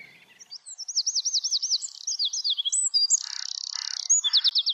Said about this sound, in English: So with robins, it's really a question of listening to the way they sing rather than to what they sing in particular.